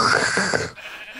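Sheep bleating in a Minecraft game, one short bleat lasting under a second, fairly loud and close, then cutting off into quiet game background.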